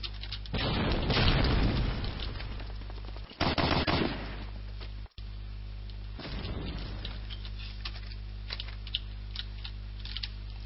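Grenade explosions and gunfire in Medal of Honor: Allied Assault, loud bursts of rapid automatic fire and heavy blasts in repeated waves, interrupted by brief silences, with scattered distant shots between.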